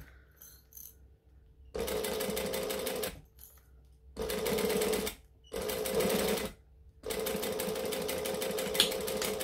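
A sewing machine stitches and back stitches on a long stitch length, running in four distinct loud bursts of rapid, even needle chatter separated by short pauses, close up and with no talking.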